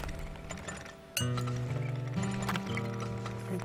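Horses clip-clop with hooves in a steady rhythm in the oil-drilling video game Turmoil, over game music. A sharp clink marks the middle of the clip, and the hoofbeats stay close and moderately loud.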